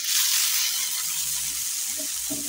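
Diced garlic hitting a hot pan for a mushroom dish, a loud, bright hiss that starts at once and holds steady, with faint stirring taps near the end.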